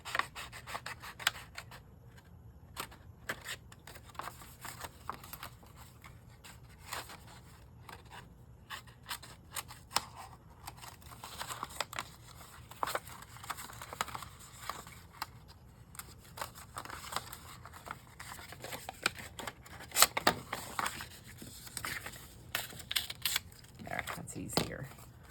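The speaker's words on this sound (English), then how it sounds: "Let's just cut down this line here." Scissors cut through a handmade craft embellishment for a scrapbooking or card project in faint, close snips and paper rustles, scattered irregularly over a quiet background, with soft talking in places.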